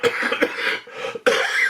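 A person coughs twice in quick succession, harsh and close, separated by a short pause, with no talk.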